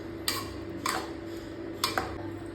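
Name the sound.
stirring ivy gourd curry with kasuri methi in pan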